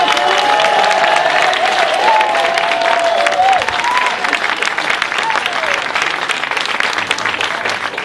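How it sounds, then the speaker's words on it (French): A café-théâtre audience claps together in sustained, dense applause at the opening of an evening show, loud and steady throughout, with a few faint voices and tonal sounds mixed in early on. "On applaudit tous ensemble"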